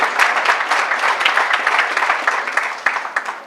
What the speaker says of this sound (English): Let's give Reverend Dr. Bernadette Glover another round of applause